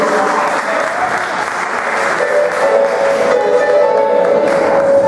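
Church congregation at an evening service applauding loudly and continuously, a dense wash of clapping with faint voices or shouts mixed in.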